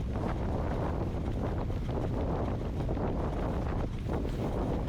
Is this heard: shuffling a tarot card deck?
no